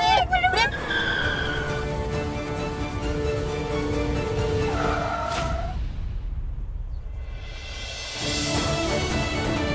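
A car brakes hard and skids on the road to avoid a woman standing in its path, a loud tyre squeal rising and falling over engine noise, then a brief lull before the vehicle noise returns.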